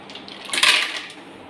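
Ice cubes drop into a blender jar for a mint margarita, giving a short, bright clatter of hard pieces striking the container, close and fairly loud, over soft background.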